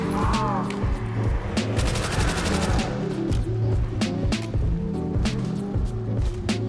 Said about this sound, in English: the M1 Thompson. Really a great gun in this game.